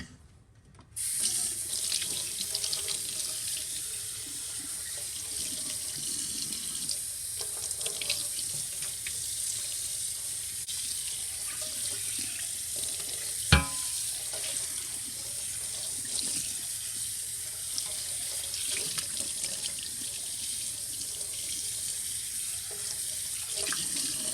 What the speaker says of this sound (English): we're going to rinse this and see what it looks like